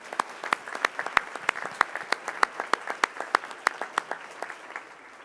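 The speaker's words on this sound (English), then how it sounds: "So give her a big round of applause." Small group clapping for a student contest winner at a school board meeting, sparse distinct claps at a steady, uneven rhythm for about five seconds, fairly close and moderately loud, with no talk over it.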